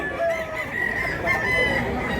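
Rooster crowing at a busy chicken market, a sustained call rising over a dense background of other fowl and crowd noise, fairly close and steady throughout.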